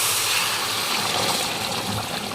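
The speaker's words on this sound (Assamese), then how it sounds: "অলপ পানী দি লওঁ প্ৰথম, গৰম পানী, উতলা গৰম পানী" Hot boiling water pours steadily into a pressure cooker set for goat meat, a continuous close watery rush that holds evenly for the whole moment without any talk.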